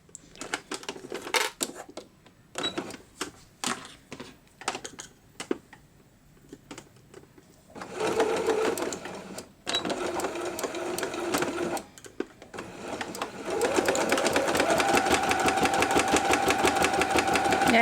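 A sewing machine stitches a fabric placemat, starting with short bursts and quick back-stitch runs, then settling into longer steady whirring runs that grow louder and continuous toward the end.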